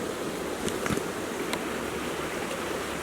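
Small creeks branching off a larger creek in Georgia woodland give a steady, close rush of flowing water that fills the whole clip, with a few faint high clicks scattered over the continuous wash.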